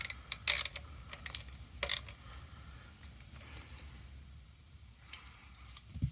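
Metal tools click and ratchet while a fastener is tightened on a gearbox, with a few sharp, close clacks and sparse ticks against a quiet background.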